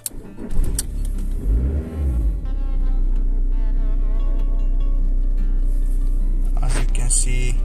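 A car engine cranks and starts, then settles into a steady low idle, close by, with someone talking over the start.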